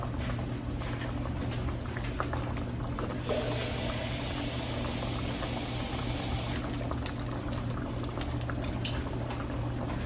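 Smothered chicken simmers in a pan after a little extra water goes in, giving a steady bubbling, hissing sizzle that swells into a brighter spray partway through before settling back, with no talking.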